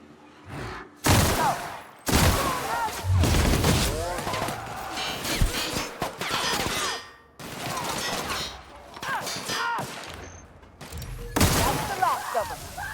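Gunfire from the video game The Outer Worlds comes in loud, rapid volleys and bursts of shots with booming impacts, broken by short gaps of near silence.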